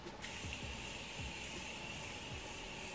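Morphe makeup setting spray misted from close range, a steady airy hiss that starts almost at once and runs unbroken for about three seconds with no talking.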